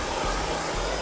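A heat gun warms a Jaguar body panel for paintless dent repair, blowing a loud, close, continuous airy roar with two brief dips.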